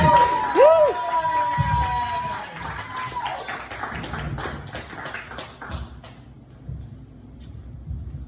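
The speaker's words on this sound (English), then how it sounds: "make some noise for Micah for the first time coming on stage" At a stand-up comedy show, an audience cheers and claps for a comedian taking the stage for the first time, with whoops and shouts over clapping that fades after a few seconds, while voices carry on.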